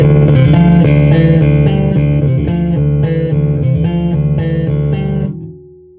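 A bright, clanky electric bass, an Ibanez GSR 200 with highs boosted, plays a quick run of notes up close, then stops, leaving a brief fading hum.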